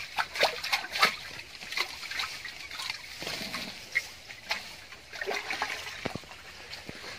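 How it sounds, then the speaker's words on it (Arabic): Mango seedlings being washed in water before packing for export, with irregular splashes and sloshing bursts, close and moderately loud, scattered through the clip. "بتغسل في مية وبعد كده هتحط في مطهر"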